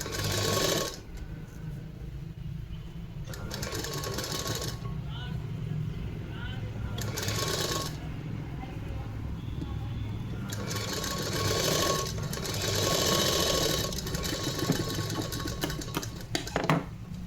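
A sewing machine stitches a princess-cut three-piece garment in short whirring bursts that start and stop, close and moderately loud, while someone talks between and over the runs.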